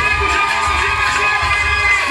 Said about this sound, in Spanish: Aplauso para Farina